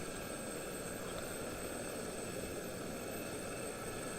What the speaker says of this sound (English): Let's not crash the helicopter.